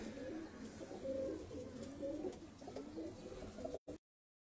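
Roza pigeons, a breed kept by a pigeon fancier, coo in a steady low murmuring run for about four seconds, fairly close, before the sound cuts off abruptly.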